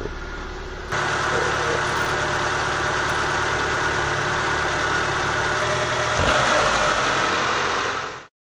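A warm car engine idles steadily after an auto choke adjustment, a close, continuous low hum with an even tone that holds throughout before cutting off near the end.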